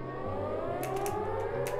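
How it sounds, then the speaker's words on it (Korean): A loud, eerie wailing siren from the Siren Head creature in a video game mod, sustained and droning with a wavering pitch, accompanied by a few brief crackling bursts. "일단 사이렌 소리가 굉장히 흉측합니다"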